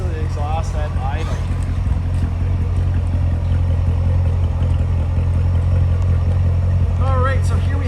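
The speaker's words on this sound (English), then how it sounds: "listen to the exhaust at idle." Deep, steady rumble of a supercharged 6.2L V8 exhaust on a 2016 Chevrolet Corvette 2LT Z51 coupe idling close by, with a low throbbing tone that holds evenly throughout.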